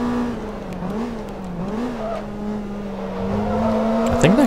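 Callaway C7 GT1 race car engine in Forza Motorsport 2, a steady loud drone that rises and falls gently with throttle, ending in a sharp revving swell, no talk.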